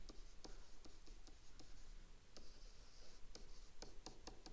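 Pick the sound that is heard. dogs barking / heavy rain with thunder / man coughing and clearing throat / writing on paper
writing on paper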